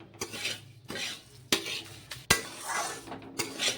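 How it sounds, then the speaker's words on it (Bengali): Semolina and sugar are stirred and dry-fried in a pan, giving quiet, close scraping strokes of a utensil against the metal with a few sharp knocks and clinks and no talking. "এবার সুজির সাথে চিনিটাকেও ভালো করে ভেজে নেব"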